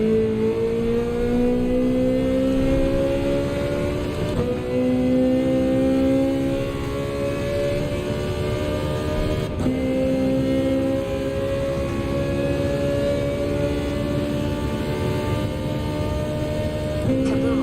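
A Ferrari race car in Gran Turismo 7 driving a lap, its engine droning loud and close as it climbs steadily through each gear, with brief dips at the shifts, alone without talk.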